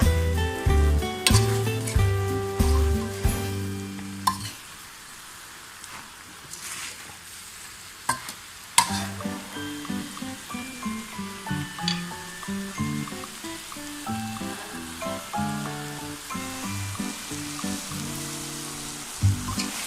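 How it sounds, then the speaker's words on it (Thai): Snakehead fish and holy basil sizzle steadily as they are stir-fried in a pan, with gentle stirring scrapes and crackling over background music and no talking. "แล้วก็คนเบาๆนะคะ เพราะว่าเนื้อปลาจะได้ไม่แตกนะคะ"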